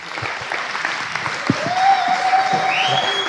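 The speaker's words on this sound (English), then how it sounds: "A huge round of applause and welcome, please, for Andreas M. Antonopoulos." A crowd applauds steadily throughout, a dense wash of clapping with a faint tonal whistle rising over it.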